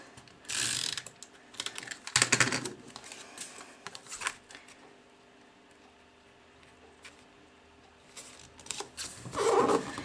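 A snail tape runner applying adhesive to red card paper for a card front, several short ratcheting clicks and scratchy bursts, close and crisp, separated by quiet pauses.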